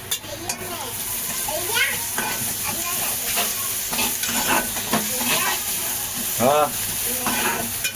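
Chopped onion frying in oil with garlic added in a home kitchen, a steady close sizzle with stirring scrapes throughout, and a voice speaking briefly over it.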